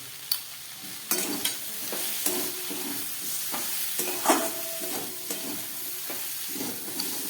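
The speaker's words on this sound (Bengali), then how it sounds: "আমার সমস্ত সবজিগুলো কষানো হয়ে গেছে।" Broccoli and mixed vegetables sautéing in a pan with Maggi masala, a soft constant sizzle under irregular scrapes and taps of a spatula, close by and fairly quiet, with no voices.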